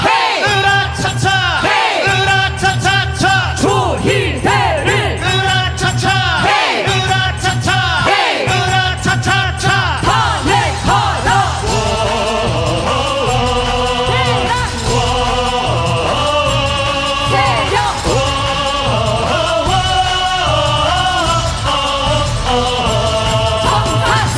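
A concert audience at a candlelight protest song performance, loud and dense, with voices that sound like a crowd shouting a rallying cry together. Most of the stretch carries music and singing, and a few sharp bursts stand out early.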